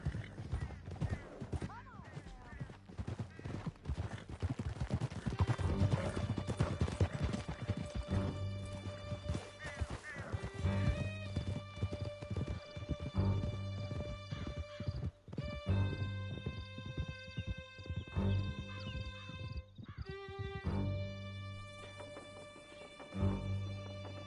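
Horses gallop hard in Red Dead Redemption 2, a rapid clatter of hooves with occasional neighs, loud and close beneath urgent shouting voices and a swelling musical score.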